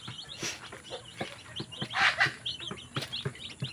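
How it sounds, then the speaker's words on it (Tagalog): Chicks and hens on a rural Bohol farm: close, busy peeping chirps overlap with soft clucks in an irregular stream, with one louder squawk midway. "At mayroon kaming mga sisiw dito."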